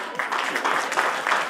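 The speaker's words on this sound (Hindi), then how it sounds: "एक बार जोरदार तालियां आपके लिए बजा दीजिए।" Auditorium audience at an annual poetry gathering breaks into steady, dense clapping that holds at an even level throughout, with many hands blending into a continuous broadband patter.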